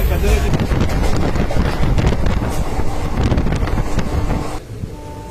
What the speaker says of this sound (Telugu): ఇది ట్రైన్ వెళ్తుంటే బాగా గాలి వస్తుంది